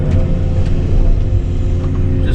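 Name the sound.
excavator engine running while loading burn pile debris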